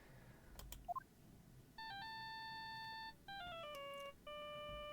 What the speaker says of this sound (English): Dude, why is that your ringtone?